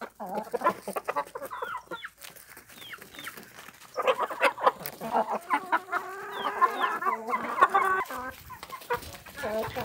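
A hen bred from a rooster and guinea fowl cross clucks repeatedly at close range on a small farm, with other chickens calling around it in busy, irregular bursts.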